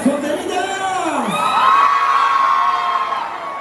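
A crowd of women at a Mexican Independence night dance shrieks and cheers in a sustained, loud burst of high-pitched yells and whoops, filling the space for several seconds.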